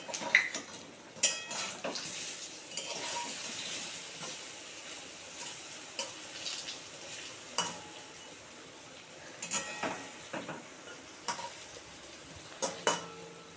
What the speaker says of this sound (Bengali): এবার সুন্দর করে লাল করে ভাজা হবে বড়াগুলো বড়াগুলো এবার উল্টে দেয়